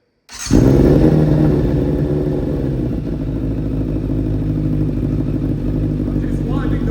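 A Yamaha 600 motorcycle engine, smoking badly after its first start in three years, runs loud and close, starting abruptly then settling from a high rev to a steady lower idle.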